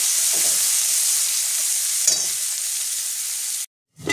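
Chopped onion frying in oil in a pan, a close, steady sizzling hiss broken by a few brief stirring scrapes, then cutting off abruptly near the end.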